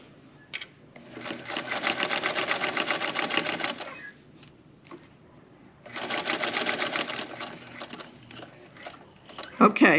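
A sewing machine stitching fabric for a prayer pillow runs in two steady bursts of rapid mechanical whirring, separated by a short pause with faint clicks, close and fairly loud.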